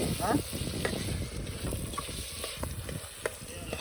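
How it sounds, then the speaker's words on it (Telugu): Tomatoes fry in a pan as they are stirred: a steady, close sizzle with scraping stirs and a few sharper clacks rising through it. "ఇప్పుడే టమాటాలు వేసి కలుపుతున్నాం"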